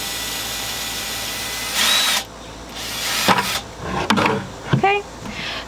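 A power drill bores through a plastic bucket for a homemade bee feeder, giving a short whirring burst and then several brief grinding, scraping bites with knocks and handling sounds in between, up close in a quiet room.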